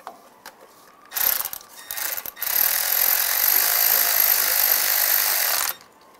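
A ratchet snugs down a 10 millimeter bolt during rear main seal work on a 2007-2013 Chevy Silverado: a few short clicks, then a loud continuous whirring run of about three seconds that stops abruptly.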